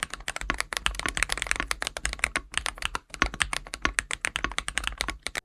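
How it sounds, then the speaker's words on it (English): Fast typing on a 75% mechanical keyboard with an aluminum case, producing dense, crisp clacks in quick bursts with short pauses, close and clear with no voices. "a solid, deep-sounding typing experience"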